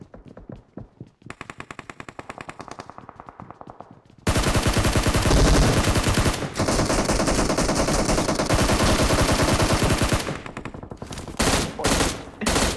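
Sustained automatic gunfire from PUBG, loud and continuous bursts overlapping into a dense fusillade for most of the stretch, with scattered single shots before and after; no voices.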